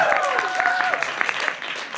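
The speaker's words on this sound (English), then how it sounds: "let's cheer and whoop now" A comedy show audience claps and cheers steadily, a dense wash of applause with whoops and a few sharp claps, near and loud, and a voice carrying through it.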